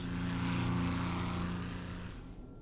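A propeller airplane drones in flight in the Minecraft-style game Potentia, a steady, loud engine hum that slowly fades toward the end.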